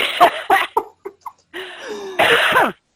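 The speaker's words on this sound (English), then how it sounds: "I'm already coughing" Several sharp coughs in a quick burst, close and loud, followed by a longer throaty cough with a wheezy, strained breath after a short pause.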